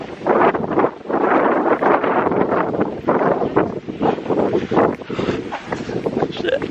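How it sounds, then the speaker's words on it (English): Strong gusty wind on an open hillside buffets the microphone in loud, continuous roaring bursts, while people talk over it. "It's windy."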